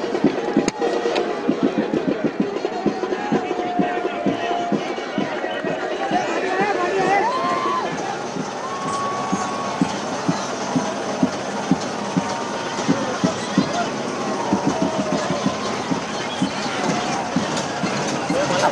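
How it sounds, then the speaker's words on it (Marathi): A huge crowd of Ganesh devotees fills the seashore during the Lalbaugcha Raja immersion, a dense, continuous roar of many voices with rhythmic clattering and a loud commentator speaking over it throughout. "आपल्या लाडक्या बाप्पाला निरोप देण्यासाठी समुद्रकिनारी गणेश भक्तांची अजूनही गर्दी आहे"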